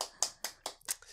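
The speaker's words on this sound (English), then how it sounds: "You guys are fucking clapping" A few people clap: four or five sharp, sparse claps in quick succession, close but quiet, with no talking.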